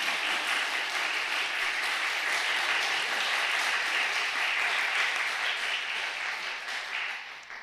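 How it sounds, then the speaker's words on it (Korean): A church congregation applauds a newly married couple with sustained, even clapping that stays strong throughout and only begins to fade right at the end. "여러분 박수 한번 올려드립시다"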